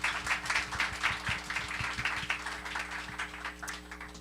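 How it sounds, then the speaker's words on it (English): Audience at a mental health stigma panel clapping for the panelists, a moderate scattering of individual claps that thins out over a few seconds over a steady low electrical hum. "Please join me in giving our panelists a round of applause."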